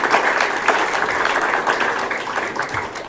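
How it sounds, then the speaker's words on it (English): An audience applauds at a 21st anniversary event held by an Afghan community association, a steady, dense round of clapping lasting a few seconds with no break. "One more big round of applause for the hard work."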